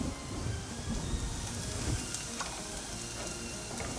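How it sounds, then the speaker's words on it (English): A chapati cooks on a hot pan, giving a soft, steady sizzle and crackle with a few faint clicks, close by and with no talk. "We can now place our chapati onto the pan."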